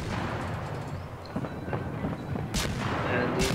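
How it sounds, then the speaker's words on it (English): Torpedoes launched from a destroyer in the World of Warships video game, heard as a dense rumbling game soundscape with a couple of sharp bursts near the end, loud and continuous. "I launch some torpedoes."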